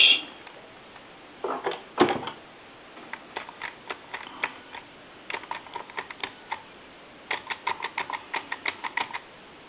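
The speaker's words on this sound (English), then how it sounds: "I'm going to go ahead and dial some numbers" Bursts of quick clicks as numbers are dialed on a Snoopy and Woodstock novelty telephone, coming in irregular runs with short pauses between them.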